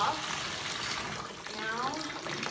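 Water pouring from a tap into a bathtub being filled for a detox bath, a steady close rushing splash that fills the whole moment at an even level with no talk.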